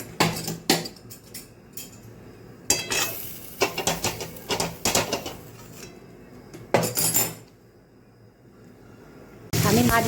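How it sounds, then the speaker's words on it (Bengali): Potatoes tossed into fish-frying oil with whole garam masala in a metal pan, with sharp clatters and scraping of a stirring utensil in bursts and a faint sizzle between, up close. "আমি মাছ ভাজার তেলের মধ্যে গোটা গরম মশলা দিয়ে একটু নেড়ে আলুগুলোকে ভাজতে দিয়ে দিলাম।"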